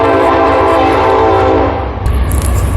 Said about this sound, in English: there was a train in the background.